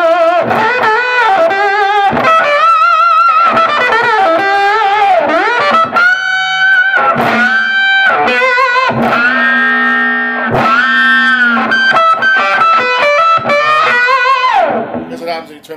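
Fuzzy, distorted electric guitar through an octave fuzz pedal with the tone turned down, playing a run of sustained notes and bends, thick and buzzy with a muted, darker tone, loud and continuous.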